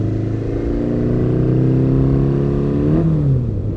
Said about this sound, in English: it's amazing for me to ride this bike after so many years of knowing it